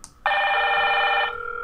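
Hikvision Generation 2 intercom indoor units ring together, a loud, steady electronic tone that starts abruptly and holds for about a second, then falls to a softer continuing ring.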